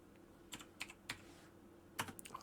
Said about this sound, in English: we just type over the top of that